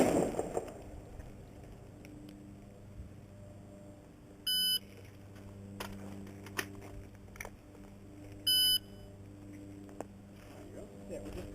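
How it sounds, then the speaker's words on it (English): Electronic shooting timer buzzer at a carbine tactical reload drill, sounding as two short, steady tonal beeps a few seconds apart over faint outdoor background noise. "after everybody gets done firing the 5 rounds, you're going to hear the buzzer go off"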